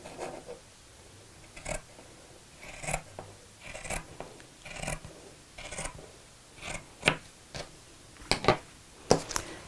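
Sharp scissors trim fabric for a sewing project in a series of crisp, close snips spaced about a second apart, some with a brief rasping slide of the blades, in a quiet room with no talking.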